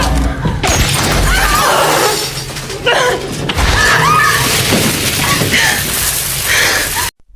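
A movie scene has a sniper firing from a billboard outside a store and hitting a woman's arm near the checkout counter. Loud cracks and crashes burst out amid shattering debris and gasps, then cut off abruptly.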